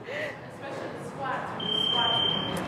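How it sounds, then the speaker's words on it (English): A workout timer alarm beeps steadily at a fixed high pitch in the second half, rising over ongoing talk in a home workout session. "Right here, I have to turn off the timer."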